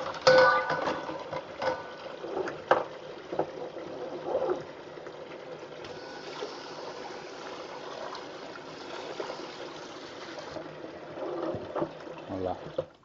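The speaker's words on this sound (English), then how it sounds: "turn on some hot water, let it clean itself" Hot water runs steadily from a kitchen tap in a home kitchen, a continuous moderate hiss and splash lasting throughout, with some clattering and handling noises early on.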